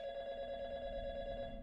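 A telephone ringing inside the Five Nights at Freddy's video game, a steady electronic ring with sustained tonal layers, moderately quiet and continuous without speech.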